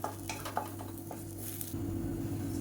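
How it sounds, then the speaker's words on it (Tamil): Garlic and tamarind stir-fried in a pan, a soft steady sizzle with a few light scrapes and taps of a spoon, fairly quiet and close. "இப்போ பாருங்கள் பூண்டு எல்லாமே நல்லா வறுபட்டுருச்சு"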